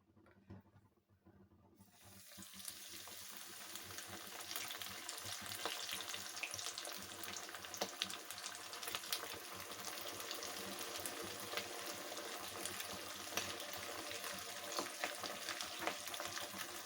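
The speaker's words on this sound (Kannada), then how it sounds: "ಇದನ್ನು ಎಣ್ಣೆಗೆ ಬಿಟ್ಕೊಳ್ಳೋಣ." Mackerel coated in rava (semolina) dropped into hot oil, bursting into a loud, steady sizzle and crackle after a quiet moment, then frying continuously up close.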